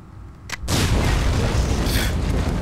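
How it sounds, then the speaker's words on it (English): A TNT charge goes off in the video game Far Cry 3 after a short sharp pop, then a loud, broad blast whose rumble hangs on for a couple of seconds. "Strategically placed TNT."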